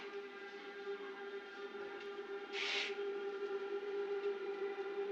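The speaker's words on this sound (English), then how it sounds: "This is a train sample from Brussels, because you've got these really old school trains, a few of them still running around Belgium, and they make the craziest sounds." An old train in Brussels, Belgium, gives off a sustained droning hum with steady whining tones and a brief hissing burst midway, close and fairly even throughout.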